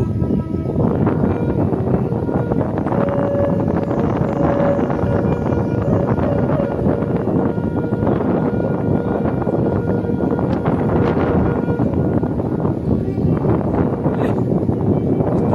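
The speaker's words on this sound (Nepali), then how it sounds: "भयानक छ यहाँ हावा भयानक छ मौसम त्यस्तै छ" Strong wind at about 4,700 meters on Nilgiri Himal roars continuously and loudly against the microphone, a dense rushing buffeting that never lets up, with no voices.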